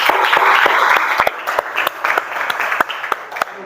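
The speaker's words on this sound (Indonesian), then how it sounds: "Tepuk tangan untuk kita semua" A classroom group of teacher-training students gives brief applause. The clapping starts dense and loud, then thins to scattered individual claps that fade over a few seconds.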